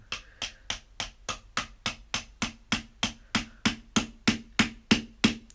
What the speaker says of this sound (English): Hold on, I'm trying to hammer this down in there.